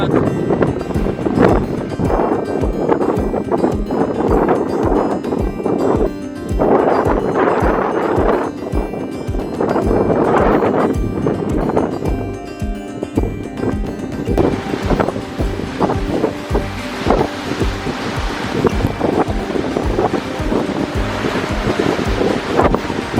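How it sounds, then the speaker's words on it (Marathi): Strong gusting wind roars without a break at the Nanemachi waterfall in the mountains, mixed with rushing, spraying water. The sound is loud and close, and no one speaks. "वारा आहे की हा धबधबा उलटा व्हायला सुरुवात झाली आहे"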